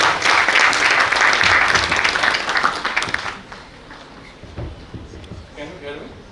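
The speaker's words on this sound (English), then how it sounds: "Please give a round of applause." An audience at a science talk applauds loudly and steadily for about three seconds before the clapping thins out into scattered claps, room rustle and a few faint voices.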